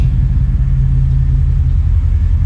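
A deep, steady 5.3-litre LS V8 engine rumble fills a car wash, loud and continuous with a low throbbing hum and no voices.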